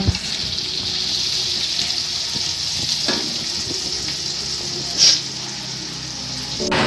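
Water pours into green chili sambal cooking in a pan, a continuous close gush and splash with faint sizzle underneath and a couple of brief clinks.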